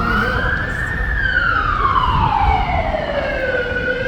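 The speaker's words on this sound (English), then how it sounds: "I'll let the ambulance go past." An ambulance siren wails loud and close as it passes a street protest, its sweeping tone rising and then dropping steadily over a few seconds.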